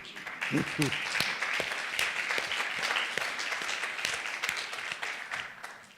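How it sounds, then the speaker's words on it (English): Audience applause at a Halifax business talk, a sustained wash of clapping that holds evenly across the clip, with a brief murmur of voices near the start. "Need a good round of applause for this one"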